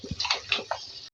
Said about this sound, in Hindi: तो उसमें पानी ऐड करेंगे ताकि ये कंप्लीट कुक हो जाए